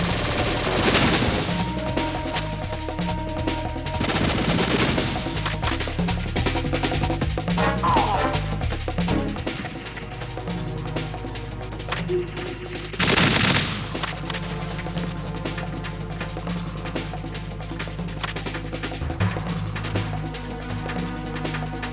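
Sustained automatic gunfire rattles through Metal Gear Solid 2: Sons of Liberty, dense loud bursts of shots with sharper blasts breaking out over a low droning background, firing nearly without pause.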